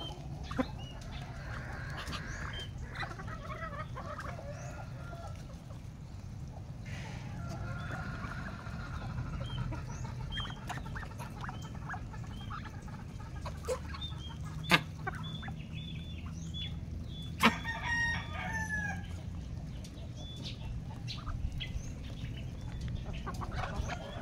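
Chickens and a rooster, with ducks also nearby, clucking softly and chattering in a flock over a steady background, with a few sharper isolated calls; faint and moderately distant, no talking.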